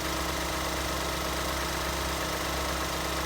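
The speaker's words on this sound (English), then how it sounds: "You hear the little valve mechanisms working in there because there's no hydraulic lifters on this motor." A 2014 Ford Escape 1.6L engine with solid lifters idles steadily, a constant low hum with a fine, even valve ticking running through it, close and unbroken with no talk.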